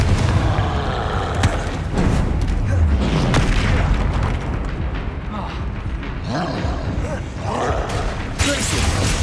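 Repeated Confringo blasting-spell explosions in Hogwarts Legacy thud and crack through a chaotic fight, with sharp impacts scattered across the clip and a voice speaking over the action.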